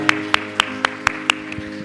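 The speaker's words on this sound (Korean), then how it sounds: "감사와 영광의 박수 올려드리겠습니다." During a Korean church's Sunday worship service, a few sharp claps ring out in a quick, even rhythm, about six in a row, over steady sustained musical tones, then fade to softer taps.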